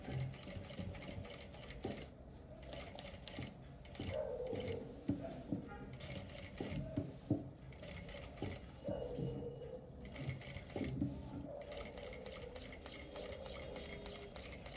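An electric sewing machine stitches fabric for a formal pant, running in short bursts with pauses between them, the motor whirring and the needle clattering at moderate loudness, with no talking.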